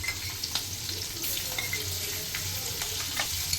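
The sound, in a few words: mustard seeds, cumin and chilli frying for pav bhaji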